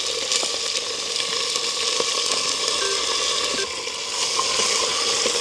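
Chopped small onions and two green chillies sauté in a pan, giving a close, steady frying sizzle with crackly texture and a brief dip in level, with no speech over it.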